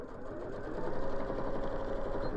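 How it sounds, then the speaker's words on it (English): A sewing machine sews straight lines down fabric pleats. It gives a steady, rapid mechanical whirr and chatter that builds slightly partway through, heard close up with no talking. "reverse backwards at the top and sew straight down"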